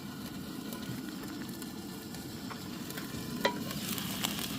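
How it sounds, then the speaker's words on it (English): Food sizzles steadily in a pan set over an outdoor campfire at dusk, a continuous close frying hiss with a few small pops and crackles. "See, now it's sizzling."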